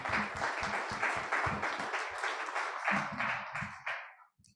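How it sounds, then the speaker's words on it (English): A conference audience at a weather infrastructure panel gives a round of applause, a full, even clatter of many hands that thins out and fades to silence at the end. "So another round of applause, please."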